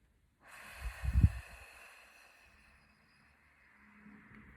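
A single deep breath, a loud nasal inhale followed by a long, soft exhale that trails off into quiet.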